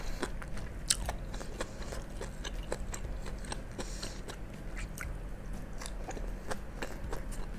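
Close, steady chewing and crunching of stir-fried fern (tumis pakis) eaten mukbang-style, with repeated crisp bites over a low background hum and no talk.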